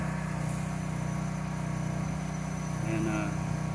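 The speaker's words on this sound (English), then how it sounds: "Sorry about the pump noise." A loud pump runs steadily during deep root feeding of a tree, a constant low droning hum with a mechanical buzz that holds evenly throughout with no pauses.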